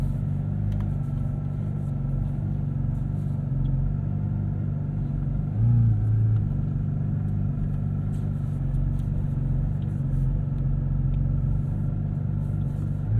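A 2023 Porsche 718 Cayman GT4 RS creeping slowly out of a driveway, its engine a low, steady rumble heard from inside the cabin, with one brief swell in the middle and no talk.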